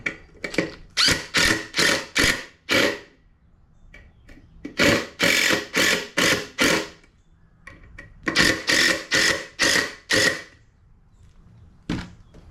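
Repeated short, loud thunks in clustered bursts drive the center fastener home on a fishing rod rack, close up and without speech, with brief pauses between groups.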